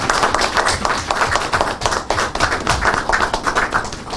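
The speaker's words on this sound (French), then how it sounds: "Sous nos applaudissements, messieurs." Dense applause from a studio audience on a French-language television finance programme, many hands clapping steadily and evenly throughout with no voices over it.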